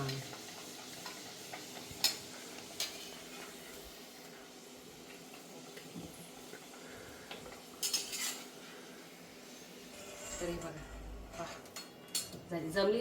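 Kachori fries in oil over a low flame with a soft, constant bubbling hiss, while utensils clink and scrape now and then and faint voices talk in the background.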